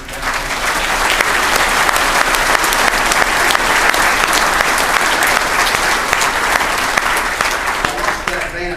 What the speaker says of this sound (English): So please join me in a round of applause for all those who helped make this event.